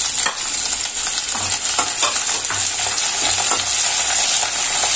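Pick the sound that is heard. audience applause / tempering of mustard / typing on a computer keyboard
tempering of mustard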